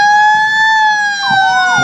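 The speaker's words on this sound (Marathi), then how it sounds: "रुग्णवाहिका मंचासमोरून गेलेली आहे. 108 रुग्णवाहिका." A 108 ambulance siren at a Republic Day parade, a loud, close, steady wailing tone with a second siren tone sweeping in toward the end, no talk.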